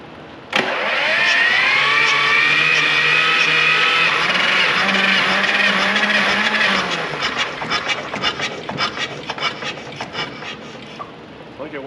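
Air-cooled Lister diesel engine cranking on its starter, then catching and running loudly and close by, with a steady knocking drone that later turns uneven and sputtering.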